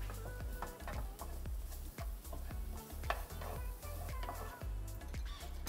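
Blended spice paste sizzles in hot olive oil as it is stirred by hand, with a steady frying crackle and repeated scraping knocks of a utensil against the pan, close and continuous.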